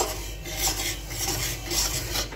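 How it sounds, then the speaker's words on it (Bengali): Semolina being fried in ghee in a pan, heard as a spoon scraping and stirring in rhythmic waves against the metal, fairly quiet and close, with no talking. "আর এখন এখন একটু ভালো করে লাল করে ভেজে নেব সুজিটাকে"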